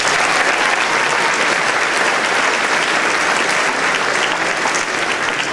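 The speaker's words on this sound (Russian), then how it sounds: "я с большим удовольствием под ваши аплодисменты приглашаю декана факультета А, Леонид Павлович Юнаков" Steady, loud applause from a large audience at a Russian-language faculty ceremony as deans are introduced, dense clapping with no pauses.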